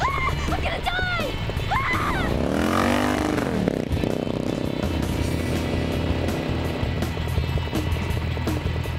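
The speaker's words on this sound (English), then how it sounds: "Turn off the engine." A steady, loud engine drone runs throughout, with a rising and falling swell around the third second and a brief cry-like voice sweep near the start.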